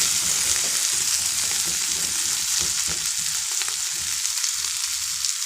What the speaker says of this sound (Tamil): இப்போ கொஞ்சம் மிளகா நல்லா வதங்கிக்கிச்சு. தீயக்கூடாது, எதுவுமே தீயக்கூடாது, வேகணும். அந்த எண்ணெயிலே வேகணும்